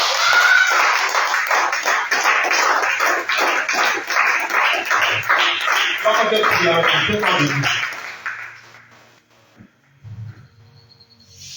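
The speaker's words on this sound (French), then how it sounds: "Si tu as compris, acclame le Seigneur Jésus." A church congregation at an evening service breaks into loud sustained clapping and cheering acclamation for several seconds, then fades to quiet.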